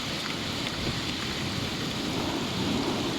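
Heavy rain and thunder roll through a storm with lightning over rising floodwater and hail, a dense, steady wash of downpour and low rumble filling the whole stretch with no voices.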